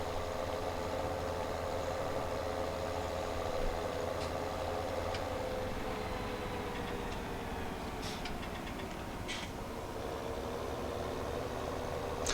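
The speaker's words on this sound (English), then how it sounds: "It's a big old tractor with them big old wheel weights." A big old tractor fitted with heavy wheel weights idles and drives in Farming Simulator 17 on a farm map, giving a steady low engine drone with faint ticking, continuous and close throughout.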